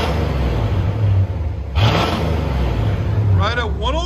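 Loud, choppy idle from a 1980 Chevy Corvette 350 V8 with straight-pipe dual exhaust, one hard rev near the middle and another quick blip near the end, with a voice speaking briefly over the rumble up close.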